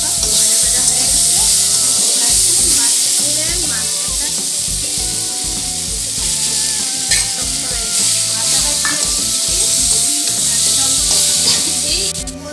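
Chopped eggplant and a fish head sizzle loudly and continuously as they fry in a pan, a dense close hiss with low clatter from stirring underneath.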